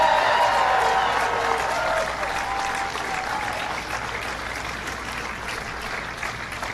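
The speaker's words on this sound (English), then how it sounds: "Please give a big round of applause to Katie McGinney." Crowd at an outdoor Labor Day rally in Pittsburgh applauds and cheers for Katie McGinney, a dense, sustained wash of clapping that starts loud and gradually tapers off.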